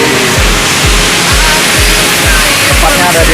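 A roaring waterfall at Campuran in Yogyakarta, Indonesia, fills the scene with loud, dense, unbroken rushing water, and steady low thumps pulse underneath at a regular beat.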